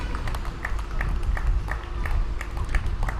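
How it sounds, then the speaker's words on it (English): Spectators at a women's open singles tennis final at the Sri Lanka national championships clap in a steady rhythm, the sharp claps repeating about twice a second over a constant low crowd murmur. "The crowd trying to get behind Angelika, cheering her on."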